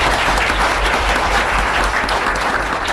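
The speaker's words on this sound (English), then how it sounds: "Let's give a round of applause for David." Dense, loud audience applause fills a lecture hall at an event on marriage and the Constitution, steady and sustained throughout with no talk over it.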